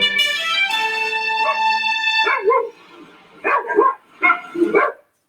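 Norfolk Terriers let out a drawn-out whine followed by several sharp, loud barks in quick bursts, close by, with no talking.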